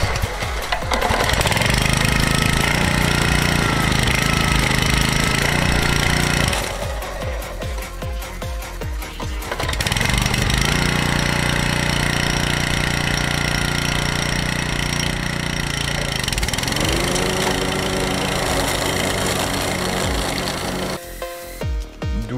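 A Honda UM 535 lawn mower engine, rebuilt after a forgotten head gasket, runs loud and close with a steady rough drone, dipping briefly twice as the load or throttle changes, then recovering.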